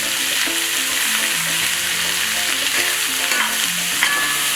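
Onions, green chilies and curry leaves fry in a pan after mustard seeds, giving a loud, steady, close sizzle with the faint scrape of stirring throughout.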